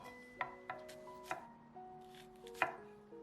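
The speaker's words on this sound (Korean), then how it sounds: "쪽파는 총총 썰어 주세요." A knife chops scallions on a cutting board in a quiet kitchen, five or six crisp, separate taps at an uneven pace, close and clear.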